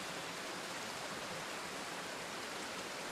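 A river flowing in the video game Trine 2, a constant, even rush of water with a soft hiss, steady and unbroken from start to finish.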